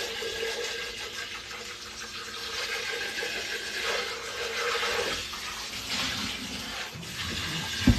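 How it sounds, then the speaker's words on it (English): Tap water runs steadily into a kitchen sink while a blender part is rinsed, a continuous hissing splash at moderate level with slight shifts as the part moves under the stream, no voices. "So we're just going to rinse this off."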